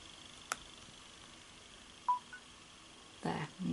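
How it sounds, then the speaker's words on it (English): A phone and a tablet bleep as charging from a 15600mAh power bank begins, with a few short, faint electronic beeps and clicks spread over a quiet background. "There, you heard the phone bleep and the tablet is also charging."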